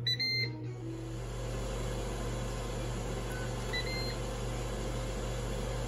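A Ninja countertop oven cooking a burger gives off a steady electrical hum with a fan whir, continuous and even throughout, with a few faint beeps near the start and no talking.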